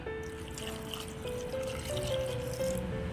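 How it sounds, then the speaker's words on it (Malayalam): A thin stream of water trickles and pours steadily into a cooking pot holding green chillies, with a faint ringing tone shifting as it fills. "കുറച്ച് വെള്ളം ഒഴിച്ചു കൊടുക്കാം"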